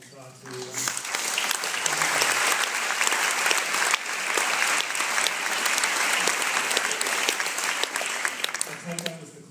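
An audience at a Sydney kindness award event applauds steadily for several seconds, a moderately loud wash of clapping, with brief voices at the start and end.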